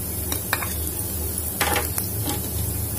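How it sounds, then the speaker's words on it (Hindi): Ginger dropped into a hot frying pan of momo filling, a soft sizzle with a few light scrapes and clinks of a spoon against the pan, close by, no talking. "अब मैं इसमें अदरक डालूंगी"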